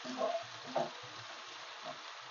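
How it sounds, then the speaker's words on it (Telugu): Onions frying in oil in a pan, a soft steady sizzle at low volume with a few brief stirring bumps. "ఉల్లిపాయలు బాగా వేగనివ్వాలండి"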